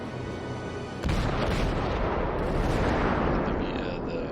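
Naval artillery in the World of Warships video game firing at an aircraft carrier: a quiet lead-in, then a sudden loud boom at about one second followed by a sustained rumbling roar and crackle that slowly fades.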